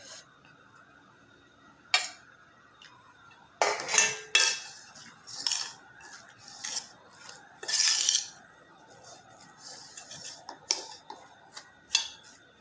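A spoon stirs sardine roll filling with sauce in a pan, making irregular clinks and scrapes of metal on metal close by, with short pauses between strokes.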